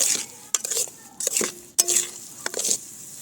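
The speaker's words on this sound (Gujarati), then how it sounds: "જેમ જેમ શેકાતો જશે આ લોટ તેમ તેમ ઘી છૂટું પડતું જશે" Flour roasts in ghee in a pan while a spoon stirs it, making brisk scraping and clinking strokes in an uneven rhythm over a faint sizzle, close and without voices.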